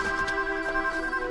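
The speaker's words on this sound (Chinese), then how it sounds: "电话" A telephone rings indoors with a bright, sustained electronic tone, heard close and alone for a moment.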